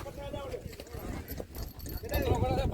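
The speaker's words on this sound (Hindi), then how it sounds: "देख सकते हो काफ़ी घोड़े आ गए और भी घोड़े आ रहे हैं" Horses gather at a horse race meeting in Bhachau, Gujarat, and their hoof clip-clops are heard amid a busy, noisy crowd with people talking throughout.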